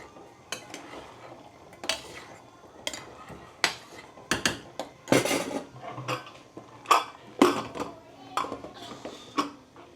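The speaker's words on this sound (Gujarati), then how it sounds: "ફરી વાર મિક્સ કરીને ચેક કરી લઈએ" A spoon stirs a papdi, val and mixed vegetable curry in a pot, giving irregular close clinks and scrapes against the pot, some sharp and some soft, with no talking.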